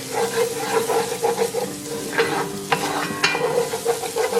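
Garlic stirred as it fries in a pan, a steady close sizzle with a utensil scraping and clinking at irregular intervals.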